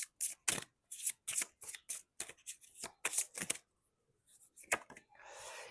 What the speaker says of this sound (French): je vais prendre une dernière carte de ça